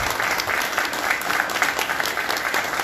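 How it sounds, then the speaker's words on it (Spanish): An audience at a ceremony marking a coffin's arrival in Trujillo claps continuously, a dense, even round of applause from a sizable crowd filling the clip. "Un aplauso para ellos."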